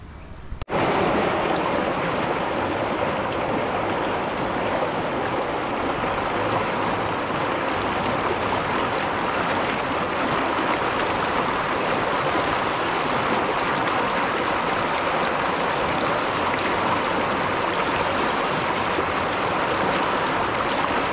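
A river flowing past a mountain camp at Daraitan in Tanay, Rizal, with a steady broadband rush of water that holds constant and loud from start to end, with no voices over it.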